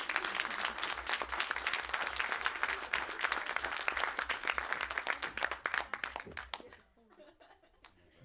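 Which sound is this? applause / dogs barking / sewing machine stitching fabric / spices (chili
applause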